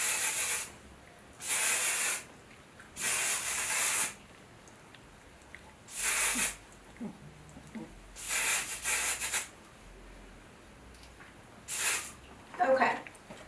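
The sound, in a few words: spraying hairspray on curled hair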